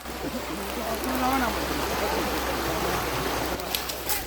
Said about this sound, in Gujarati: તો મસ્ત ખળખળ પાણી વહે છે